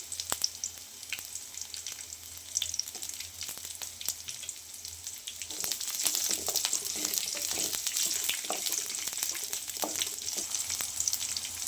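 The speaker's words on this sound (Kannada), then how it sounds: "ಇವಾಗ ಮೆಣಸಿಕಾಯಿ ಎಲ್ಲ ಫ್ರೈ ಆಗಿದೆ" Green chilies for chilli chicken sizzle and crackle steadily in hot oil, with occasional stirring, growing a little louder partway through; no voices.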